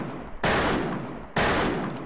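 Gunfire from the Western-themed video game Fistful of Frags: two loud, sustained broadband bursts, each starting abruptly and trailing off over about a second, close and without talk.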